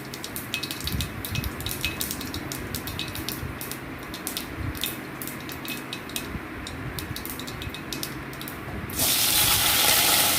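Cut raw plantain pieces dropped into hot oil with mustard seeds, first light popping and clinks of seeds, then a sudden loud burst of steady hissing sizzle close by.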